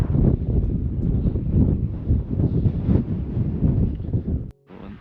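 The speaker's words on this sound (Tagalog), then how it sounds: "mahangin dito minsan mga kajeday malilinig mo yung ihip ng hangin" Wind blowing steadily at a lakeside campsite at Abraham Lake, a loud, continuous gusting rush that fills the whole stretch before cutting out abruptly near the end.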